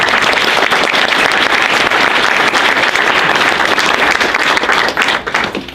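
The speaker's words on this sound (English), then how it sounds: "Another round of applause for our keynote speakers" Dense, loud audience clapping at a Hindu-Catholic interfaith dialogue gathering honours the keynote speakers, continuing steadily for several seconds before beginning to fade at the end.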